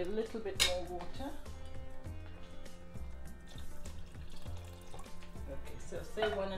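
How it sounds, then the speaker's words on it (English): Water is poured into chicken curry gravy simmering in a pot, a steady splashing pour lasting several seconds beneath other background sound. "Okay, I think we need a little bit more water."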